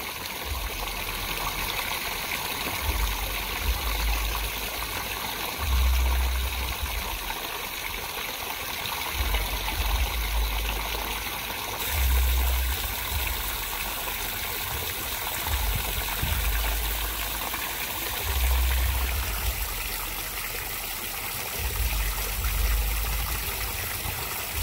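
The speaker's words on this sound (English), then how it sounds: "I'm just going to fill this up a bit with water" Water runs and trickles steadily into a container to hydrate a compressed soil cube for a cardboard box planter, a continuous close stream with low, periodic gurgling thumps and no talking.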